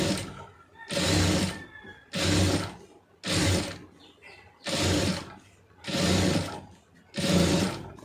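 Sewing machine stitching cloth in repeated bursts of about a second each, separated by short pauses, loud and close with no talking.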